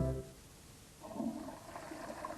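A toilet flushes in a 1997 Polish TV advert for Domestos. After a brief tone fades out, a faint, steady rushing of water swells and keeps going, with no voice over it.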